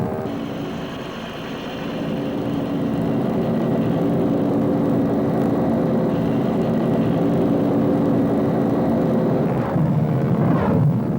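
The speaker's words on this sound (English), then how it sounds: "the Huey became one of the distinctive sights and sounds of the Vietnam War" A Bell UH-1 Huey helicopter flies past with a steady, loud engine and rotor drone that swells slightly after the first couple of seconds and holds throughout, with no voices.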